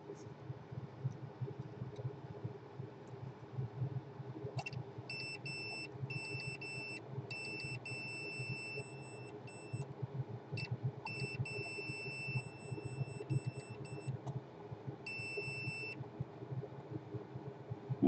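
A multimeter on continuity test beeps in short high-pitched bursts against a modem-router board, a steady electrical hum underneath and the beeps starting and stopping in irregular groups.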